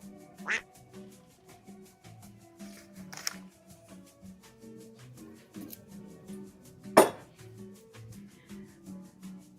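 Cartoonish duck quacks are played as a sound effect during a live glass auction stream, with a few sharp, distinct quacks standing out over soft background chatter and clinking.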